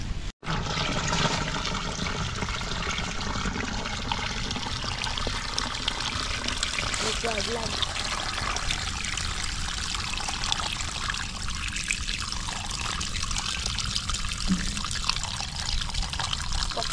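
Water poured steadily during an outdoor catch-and-cook of tilapia and crab, a loud continuous splashing rush that runs unbroken for the whole stretch, close by.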